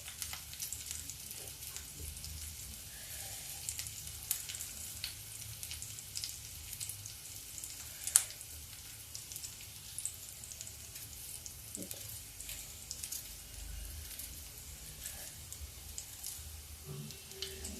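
A thinly sliced onion frying in a pan gives a steady soft sizzle and crackle, faint and continuous, with a few light clinks of a utensil scattered through.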